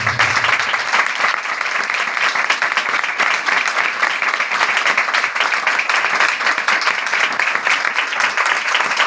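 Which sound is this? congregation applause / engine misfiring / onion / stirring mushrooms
congregation applause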